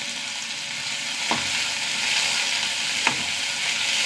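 Shallots and curry leaves frying in hot coconut oil give a steady, dense sizzle with two brief stirring clicks, close and alone with no voices.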